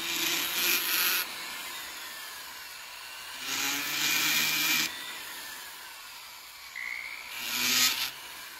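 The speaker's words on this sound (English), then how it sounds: "these little sanding discs, these are awesome." A small rotary sanding disc whirs against a metal ring while polishing it, in three separate bursts, a high gritty hiss that starts and stops with quiet pauses between.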